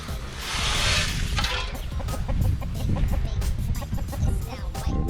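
Backyard chickens cluck and squawk continuously at close range, with scattered rustling and clattering as they are fed, and no talk over them.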